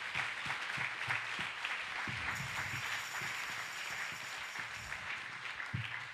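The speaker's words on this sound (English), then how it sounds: "let's give God a hand clap of praise" A church congregation claps and applauds in praise, many hands giving a dense, continuous round of clapping that stays fairly even throughout.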